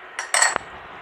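A metal spoon scrapes and clinks against a pot while fresh cream is stirred into Maharaja chicken, a brief close burst of scraping ending in one sharp tap.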